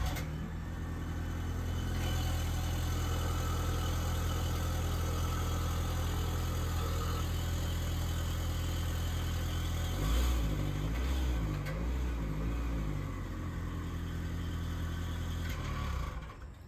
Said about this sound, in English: this is a 2020 Ford Escape. We'll go ahead and show it starting up from the outside,